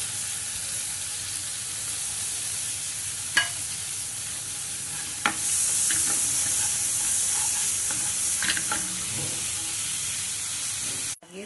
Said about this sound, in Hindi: हमने किनुआ भिगो के रखा था उसे हम थोड़ा सा सौते करेंगे